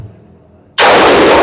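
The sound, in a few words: gunfire from Geissele Super Duty AR15 5.56 rifle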